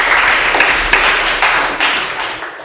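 Classroom group claps hands after a game, a close, loud burst of rhythmic clapping that fades over a few seconds.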